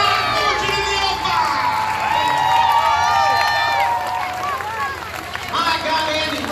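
Crowd at a Rock Island County Fair demolition derby, a full grandstand yelling and cheering continuously at moderate distance while an announcer talks over the noise.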